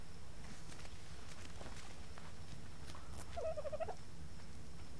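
A dodo bird in the ARK video game gives a short gobbling, clucking call, faint against a steady hiss, with soft footstep-like taps around it.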